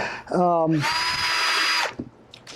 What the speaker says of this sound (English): drill these right out